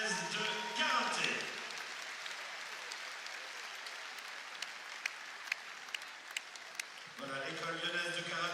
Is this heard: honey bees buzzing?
no